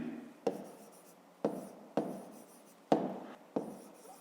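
Pen on paper while numbers are worked out by hand in a fifth-grade maths division exercise: five short scratchy strokes at uneven intervals, close and fairly quiet, with no talking.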